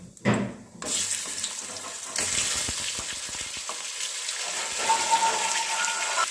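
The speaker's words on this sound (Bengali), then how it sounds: "দিয়ে দিচ্ছি মূলোগুলো" Radish pieces hit hot oil already seasoned with dried red chilies and panch phoron, giving a steady close sizzle with stirring and scraping clicks that continues throughout.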